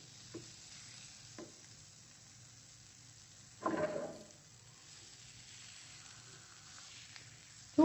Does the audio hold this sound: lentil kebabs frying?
yes